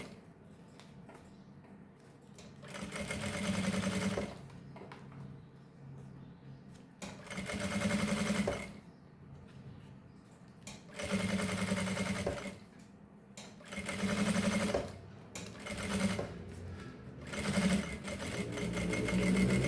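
A sewing machine stitches a mesh fabric waist pouch in repeated bursts of rapid mechanical whirring, each run lasting a couple of seconds, separated by short pauses, close and clear.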